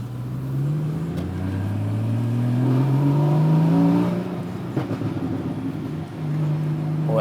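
A Porsche Cayman GTS engine revs hard, its pitch climbing loudly and then dropping back, with a throaty rumble throughout and no talking.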